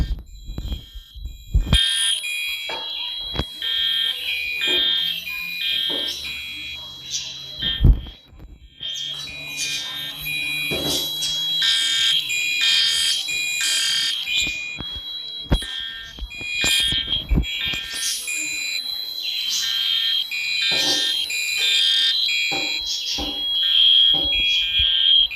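A school fire alarm sounding during a test after a pull station is activated: a loud, continuous electronic pulsing tone that drops out briefly and returns, with scattered voices and clatter beneath it.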